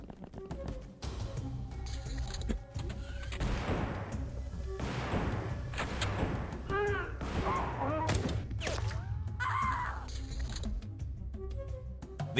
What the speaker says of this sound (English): We love indirect fire.